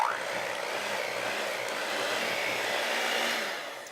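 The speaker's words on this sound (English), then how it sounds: "we're going to mix that till it comes nice and creamy" An electric mixer whirs steadily through cream cheese, beating it until creamy for a chocolate chip cannoli dip; the motor drones continuously and close, with no break in its hum for the whole stretch.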